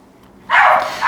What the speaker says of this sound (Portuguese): os cachorros estão latindo aqui que tá passando um gato em cima do muro aqui.